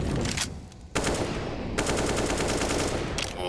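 Rapid bursts of automatic gunfire in a professional Counter-Strike match between NAVI and Astralis, loud and close, with dense crackling volleys filling nearly the whole stretch and only a brief lull.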